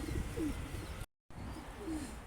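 A Mardin Dumanlı Perçem pigeon coos outdoors, two soft low coos spread apart over steady background noise, with a brief silent gap in between.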